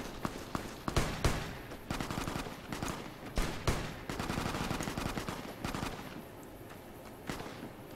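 Heavy gunfire in Fallout New Vegas, with dense overlapping bursts and rapid automatic shots rattling continuously over several seconds at fairly close range, some sharp louder cracks standing out.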